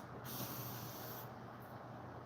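A steady, loud hiss of spray blasts for about a second as a chainsaw air filter is sprayed out to clean it, then eases off to a lower background hiss.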